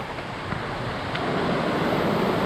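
A strong river current rushes in a steady, loud wash of water that swells slightly toward the end, with no voices over it.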